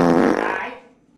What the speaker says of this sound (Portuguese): E aquele pum?